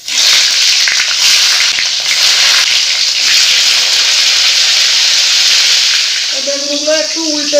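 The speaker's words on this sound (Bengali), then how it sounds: "এই বেগুনগুলো একটু হালকা ভেজে নেব।" Salted aubergine slices frying in oil in a wok give a loud, close, continuous hissing sizzle that holds steady throughout, with a short voice rising near the end.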